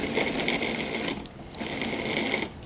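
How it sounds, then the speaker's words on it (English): Food processor pulsing romesco ingredients into coarse crumbs, two steady whirring motor bursts separated by a brief dip, loud and close. "So I'm just pulsing it to break up those large pieces."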